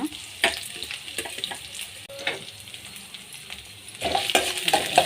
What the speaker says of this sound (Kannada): ಎಣ್ಣೆ ಕಾದಿದೆ. ಇದಕ್ಕೆ 1 ಚಮಚ ಸಾಸಿವೆ ಜೀರಿಗೆ, ಕಡಲೆಬೇಳೆ, ಉದ್ದಿನಬೇಳೆ, ಈರುಳ್ಳಿ, ಮೆಣಸಿನಕಾಯಿ ಎಲ್ಲವನ್ನು ಹಾಕೋಣ.